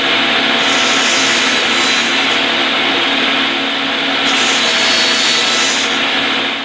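A table saw cuts a wooden desk side table leg to length, a loud steady whir and rasp of the blade through the wood holding for several seconds, with a brief dip near the middle before the cut continues.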